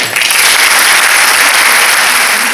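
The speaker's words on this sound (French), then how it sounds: "je vous demande de l'accueillir et de l'applaudir, Marwan Mohamed" A university lecture hall audience applauding to welcome a guest speaker, loud, dense and continuous clapping from many people throughout.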